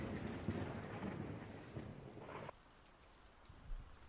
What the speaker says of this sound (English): The rain showered nonstop.